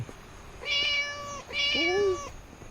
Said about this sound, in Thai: อุ้ยน้องแมว